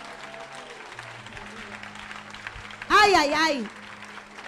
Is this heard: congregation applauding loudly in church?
yes